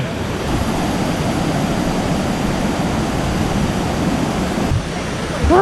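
Tat Kwang Chi waterfall in the rainy season gives a steady, loud broadband roar of rushing water that holds constant throughout, with a brief change near the end.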